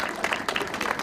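Audience applause at the East Boston police station groundbreaking ceremony: a brief, fairly close outdoor burst of many hands clapping, steady and dense throughout, with no talk over it.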